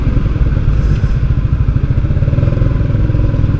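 A Yamaha R15 motorcycle's engine throbs loud and close while it is being ridden, its rapid, even pulsing steady throughout and overlaid by a little rattle.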